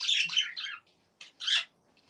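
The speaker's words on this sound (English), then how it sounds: "Birds." A pair of pet birds squawk and chirp loudly and close by, a dense burst of calls followed by a pause and a shorter second outburst, with no talking.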